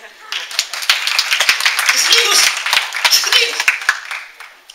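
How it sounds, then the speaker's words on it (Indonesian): Congregation clapping during a church service at BCC Jakarta, a loose burst of hand claps rising and fading over a few seconds as a voice talks over them. "berikan tepuk tangan."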